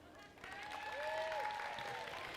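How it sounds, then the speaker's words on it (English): A crowd at a FIRST Tech Challenge robotics qualifier in Biloxi, Mississippi, applauds itself with a brief burst of clapping. The clapping is fairly faint and sounds distant, with cheering voices over a background hum. "Now give yourselves a big round of applause."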